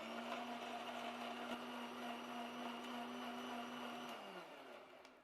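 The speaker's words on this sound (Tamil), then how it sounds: "இப்போ மிக்சி ஆன் பண்ணிக்கிறேன்." A mixer grinder blends thick curd and ice for masala buttermilk with a steady, loud motor whine that runs continuously for several seconds, then begins winding down at the end.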